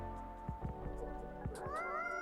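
A cat in a café video game meows a few times in short plaintive calls over soft background music, fairly quiet and close.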